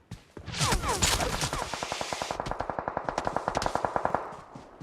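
Gunfire in PUBG Mobile: a burst of rapid automatic shots opens loud and close, then settles into a long run of evenly spaced, sharp cracks that fade at the end.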